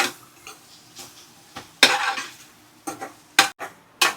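A spatula scrapes and clatters in a pan while leftover rice is stir-fried with Schezwan chutney, sharp irregular metallic knocks over a quiet background.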